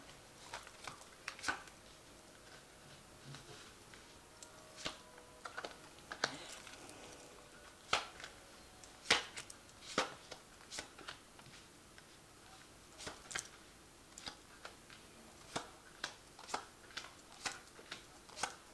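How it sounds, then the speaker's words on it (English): Tarot cards are shuffled and drawn from a deck, giving faint, close, irregular ticks and soft slaps spread through about 19 seconds of otherwise quiet room, with no talk. "So I'm just going to draw some cards from this deck."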